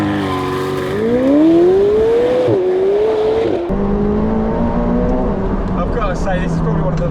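A McLaren 720S under hard acceleration, its engine note climbing steadily through the revs before a brief break at a shift and a second rising pull, loud and close throughout.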